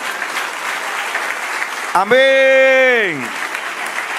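A church congregation applauds steadily throughout, and a single voice rings out loudly over the clapping midway before the applause carries on alone.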